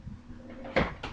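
A refrigerator drawer slides open with a short plastic clunk over a low fridge hum, close by and moderately loud.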